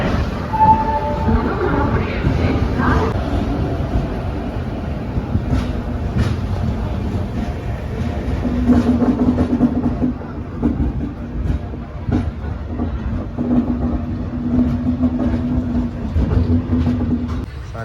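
The Howrah–SMVT Bangalore Duranto Express, train 12245, running steadily on the line, its continuous loud rumble heard from inside with rhythmic wheel clatter and a sustained hum throughout.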